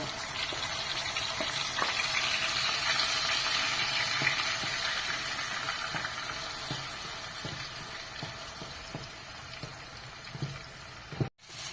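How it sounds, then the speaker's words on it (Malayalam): Ground onion and green chili paste sautéing in hot oil for chicken curry, giving a steady, fairly loud broadband hiss and sizzle that runs throughout with faint scraping ticks, easing slightly near the end. "അതിൽ സവാളയും പച്ചമുളകും കൂടി അരച്ചത് ഇട്ട് നന്നായിട്ട് വഴറ്റുക."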